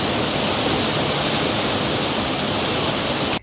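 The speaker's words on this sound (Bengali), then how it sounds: "আজকে ঝর্ণার মাঝে প্রচুর পানি" The Jaflong Mayabi waterfall, swollen after rain, roars loud and steady in a dense, unbroken rush of falling water, with no voices.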